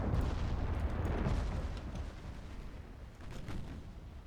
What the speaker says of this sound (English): I should now start to bring those stern guns to bear